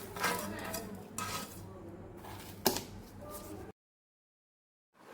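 Golden brown kunafa is moved onto a plate with a utensil, producing close scraping, clinks and rubbing against the dish, then the sound cuts to near silence.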